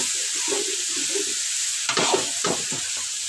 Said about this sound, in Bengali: এই যে আমরা মাছের তরকারির জন্য শিলগুলোর একটু হালকা ভাজিয়ে নিতেছি।